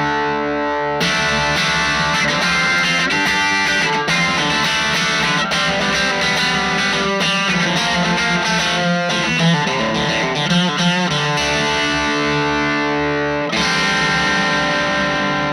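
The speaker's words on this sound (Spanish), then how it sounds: "Vamos a los modos de distorsión que tiene ese ampli. Primero el lead normal, sin boost." Electric guitar through an H&K Tubemeister Deluxe 20 tube amp on its lead channel without boost, EQ neutral and gain at half, played as a loud, continuous distorted riff with dense, sustained chords and notes from start to finish.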